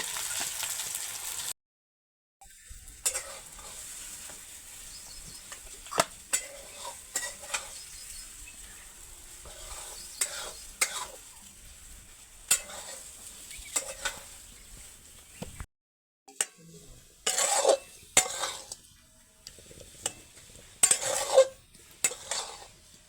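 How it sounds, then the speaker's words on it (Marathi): Potato halwa mixture frying in ghee for a fasting-day recipe, stirred with a spoon in a pan: soft steady sizzle with irregular scraping and clinking strokes, close and quiet, no talking. "हे आपल्याला चांगलं पाच मिनटं परतून द्यायचं आहे"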